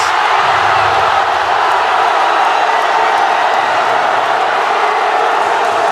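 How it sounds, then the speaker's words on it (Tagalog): A fired-up crowd in a basketball arena during a Valenzuela versus Batangas City game roars continuously and loudly throughout, a dense wall of cheering and shouting with no breaks. "This crowd is fired up. Probably the loudest I've seen this season."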